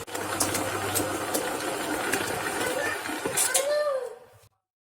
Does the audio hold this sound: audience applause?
no